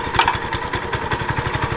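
A Coleman B200RSV full-suspension minibike engine runs close by with a loud, rapid, rhythmic putter and slight revving, with no voices.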